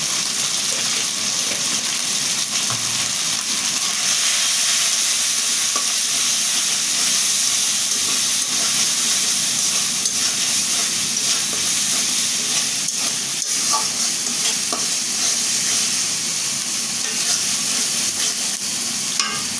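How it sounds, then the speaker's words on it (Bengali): Spice paste with salt and turmeric frying in a pan as it is stirred, a loud, constant close sizzle and hiss lasting the whole time with faint scraping, and no talking. "মশলাটা আমি ভালো করে কষিয়ে নেব।"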